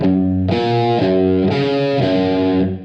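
A distorted electric guitar plays a short riff of sustained chords from a song, changing about every half second, loud and close, fading at the end.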